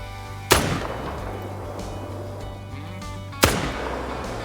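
Two sharp, loud .303 rifle shots in the hunting game theHunter: Call of the Wild, about three seconds apart, each a hard crack followed by a rolling echo that fades out, over quiet outdoor ambience.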